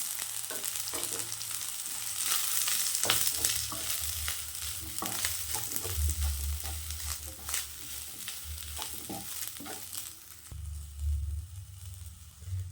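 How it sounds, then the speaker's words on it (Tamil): Onions and coconut sautéing in a pan for mutton varuval masala: a continuous soft sizzle with frequent clattering scrapes of a spoon stirring, close up and without speech. "வெங்காயம் நல்லா வதங்கி வரட்டும். வெங்காயம் வதங்கிடுச்சு. தேங்காய் சேர்த்துக்கலாம்."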